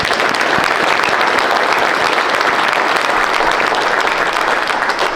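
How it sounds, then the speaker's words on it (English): Sustained applause from a large conference audience after a presentation, dense and even, continuing at full strength for the whole stretch with no talking. "how about a round of applause for probably the best presentation we've had all week long?"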